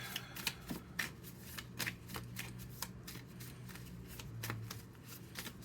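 Tarot cards are shuffled for a reading in a quiet room, with soft riffling and a run of light, crisp card snaps repeating close by.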